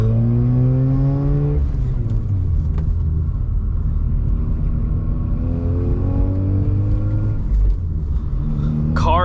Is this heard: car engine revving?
yes